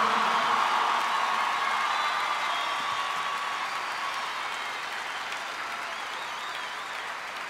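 A concert crowd at a live show in La Plata, Argentina applauds the guitarist, a broad sustained roar of clapping that gradually eases over several seconds.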